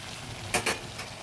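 Kechki fish with flat beans and potatoes frying in a pan, a low sizzle broken by two quick scraping strokes of a spoon and a faint third touch, close and brief.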